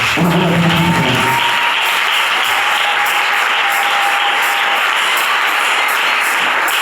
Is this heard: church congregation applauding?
yes